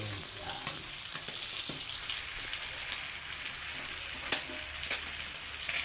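Garlic sautéing in a home kitchen pan, a steady broadband sizzle with scattered pops and crackles, close and moderately loud, with no talking.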